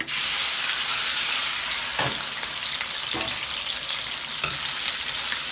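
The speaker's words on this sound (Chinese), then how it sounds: "这个肉比较瘦，比较吸油，简单炒一下啊" Lean meat stir-frying in a wok hisses with a loud, continuous sizzle, broken by a few scraping strokes of the spatula, close up and with no voices.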